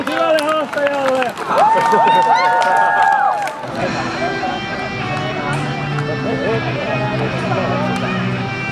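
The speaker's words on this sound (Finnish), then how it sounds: "Aplodit hyvälle haastajalle!" An audience at a Tracon convention contest bursts into applause and cheering for a challenger, a loud sustained wash of clapping and crowd noise after shouting voices at the start.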